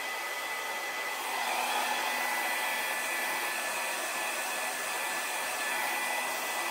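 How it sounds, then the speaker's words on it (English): A hair dryer blows steadily at close range on acrylic pour paint, a constant airy whoosh with a faint motor whine and no pauses. "Kind of hold the dryer so I'm just blowing from this little narrow side there"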